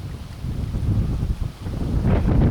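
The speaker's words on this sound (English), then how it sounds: "It's still a little windy." Wind blowing outdoors after a heavy rain of about 75 mm, a steady low rumbling gust against the microphone that strengthens toward the end, with no talking.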